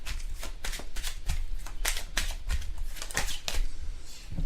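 Tarot cards are shuffled by hand close up, giving a quick series of crisp riffling bursts in a fairly regular rhythm with no talking.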